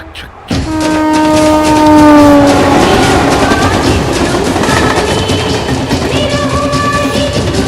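A train in a Bhojpuri film scene rolls past close by. Its horn blares in long steady tones over a dense rumble and rattle of wheels that continues loudly to the end.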